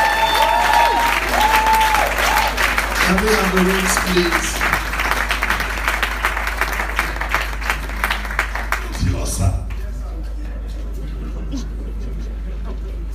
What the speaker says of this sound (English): This is the time everybody should be clapping.